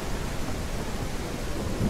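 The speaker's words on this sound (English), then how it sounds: "And it is raining, which is super amazing." Steady, loud rain pours continuously in Mist Survival, a dense broadband hiss with a low rumbling undertone like distant thunder, with no voices.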